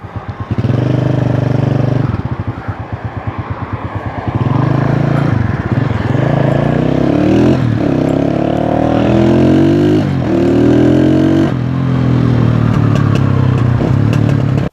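A Honda CG motorcycle engine roars and revs steadily up and down, loud and close, with a rattling gear clatter early on.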